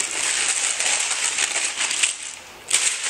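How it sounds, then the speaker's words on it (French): Crinkly tissue paper being opened inside a shoe box, a run of bright rustling and crumpling close by, pausing briefly before a final crisp rustle. "Et quand on ouvre le papier de soie"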